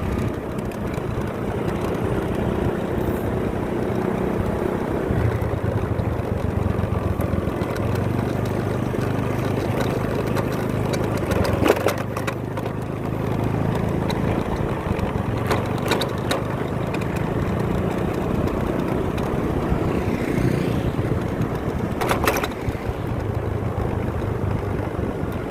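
Riding a motorcycle at about 30-40 km per hour gives a constant engine rumble mixed with rushing wind buffeting, loud and unbroken throughout, with occasional sharper gusts and bumps.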